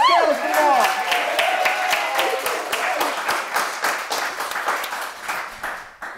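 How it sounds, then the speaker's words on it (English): A studio audience on a talk show applauds with crisp, rapid claps that follow a brief voice at the start, then hold steady before gradually fading. "Big round of applause for Miss Kayla Kumar."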